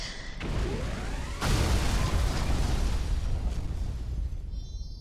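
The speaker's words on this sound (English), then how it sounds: "here's me destroying the head and saving the friends and defeating the Mecha Bowser and explosions" Big rumbling explosions go off as Mecha Bowser is defeated in Super Mario Galaxy, a first burst followed by a louder, longer blast that roars and slowly fades, with no talk over it.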